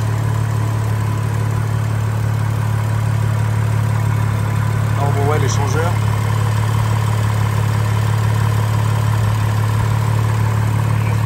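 A hot 1000-horsepower car engine idles with a steady low hum throughout, while someone speaks briefly partway through.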